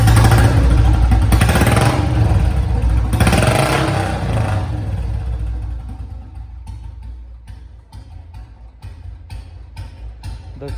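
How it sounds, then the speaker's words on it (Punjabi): A Royal Enfield Bullet Electra 350 motorcycle engine revs loudly and close up, then settles into a steady low-RPM thump with a few sharp blips of the throttle. "ਤੇ ਆਵਾਜ਼ ਇਲੈਕਟਰੇ ਦੀ ਆਹ ਹੈ, ਇਹ ਸਲੋ RPM ਤੇ ਦੇਖੋ ਪੂਰੀ ਐਨ ਦੁੱਧ ਦਾਣੇ ਗਿਣਦਾ"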